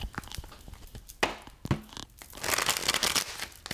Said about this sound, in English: the way that the cards are shuffling too, y'all, tells me so much